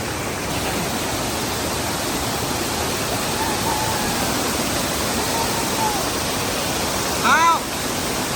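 A waterfall near Pale village roars with a steady, dense rush of falling water that fills the whole clip without pause, loud and close, with a brief brighter splash or chirp near the end.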